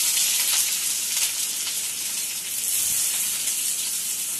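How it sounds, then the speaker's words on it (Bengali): Dried red chillies and chopped onion fry in hot mustard oil with a steady, fairly loud hiss and sizzle that holds evenly from start to finish, with no one talking. "সর্ষের তেল গরম করে আমি এর মধ্যে দুটো শুকনো লঙ্কা ফোড়ন দিয়ে দিলাম।"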